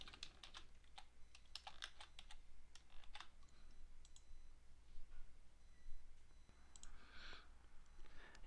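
A password is typed on a computer keyboard in quiet, irregular bursts of light key clicks, close but faint over a low steady hum, with no voices.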